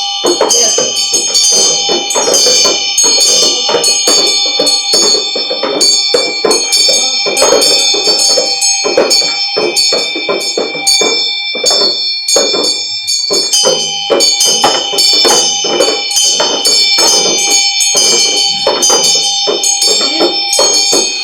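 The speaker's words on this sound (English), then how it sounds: "Bell." A bell rings continuously and loudly during Chod ritual practice, its rapid, bright peals running without pause, with faint voices underneath.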